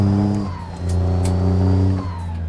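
A Cummins N14 truck engine in American Truck Simulator revs and pulls through gear changes, a deep steady diesel drone that climbs in pitch, dips at a shift, then builds again, loud and close.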